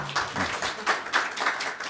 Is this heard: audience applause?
yes